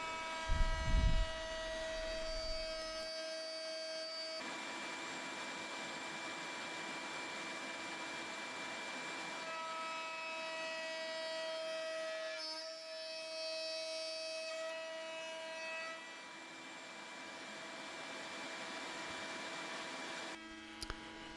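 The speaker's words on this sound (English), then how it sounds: "And now I'm using a router bit, and then I'll be connecting those two holes." A router bit cuts through wood to join two drilled holes into a handhold on a crosscut sled. The router's motor makes a steady, close droning whine with a tonal hum that runs almost unbroken for about twenty seconds.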